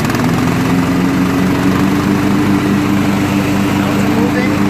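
A Kohler 16.5 HP engine on a Craftsman 42-inch lawn tractor runs at low throttle, a steady, loud, close droning idle with an even low hum and no change in pace.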